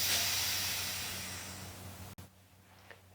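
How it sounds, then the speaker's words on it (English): A cheap plasma cutter gives a loud, close hiss of escaping air or gas that fades slowly over about two seconds, then cuts off abruptly, leaving quiet room tone. "it just hissed at me for some reason"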